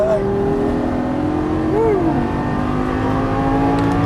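A 2013 Lamborghini Gallardo's engine drones steadily and loudly on a Las Vegas race track, its pitch sweeping up as it accelerates, with an instructor talking over it.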